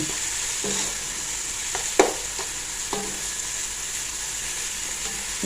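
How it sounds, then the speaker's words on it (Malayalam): Onion, tomato and curry leaves frying in a pan for Malappuram-style biryani, a constant sizzle broken by a handful of spoon scrapes and one sharper clack, with no talking. "തക്കാളിയൊക്കെ നല്ലോണം വാടട്ടെ"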